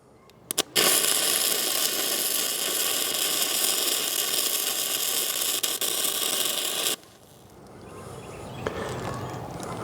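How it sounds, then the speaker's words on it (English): A 110-volt flux core welder runs a steady, loud crackling buzz for about six seconds while welding a hinge onto thick, heavy metal, then cuts out to a quiet hum. "So I'm going to concentrate my weld over on this side because this is heavier, thicker metal than the hinge is."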